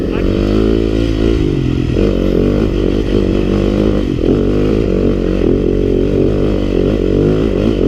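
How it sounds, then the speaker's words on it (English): A Yamaha YZ250FX dirt bike engine runs hard and loud throughout while riding over rocky ground, holding high revs with several dips and surges as the throttle is worked, close and dominant. "back up on the bike, staying up, keep the RPMs up"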